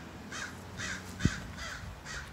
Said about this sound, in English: I got crow making too much noise